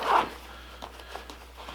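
A zipper is pulled closed on the hip belt pocket of an Osprey 65-litre backpack, one brief close zip near the start, followed by faint light handling and rustling.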